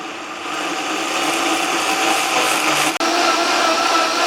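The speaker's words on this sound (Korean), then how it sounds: "콩 삶았던 물 한 컵 부으셔서 되도록이면 아주 곱게 갈아주시면 됩니다" A blender grinding soaked brown glutinous rice with a cup of bean-cooking water gives a loud, steady, close whir with a brief dip near the end and no voices.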